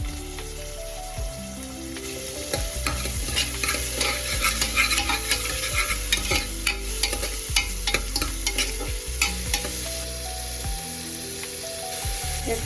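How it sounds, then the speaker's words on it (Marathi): Onions fry in hot oil for a tempering base, crackling loudly and steadily under repeated stirring strokes of a spoon against the pan. "एक पळी तेल टाकलेले आहे मी फोडणीसाठी"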